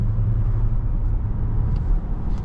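An Audi A6 e-tron Avant in dynamic drive mode plays an artificial drive sound, a low, steady synthetic rumble that hums continuously and evenly from inside the cabin with no talking.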